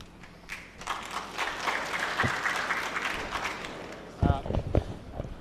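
Scattered audience clapping breaks out in a hearing room, mixed with murmuring voices and some louder talk toward the end.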